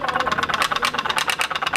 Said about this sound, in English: These middle school students are testing out their putt-putt boats.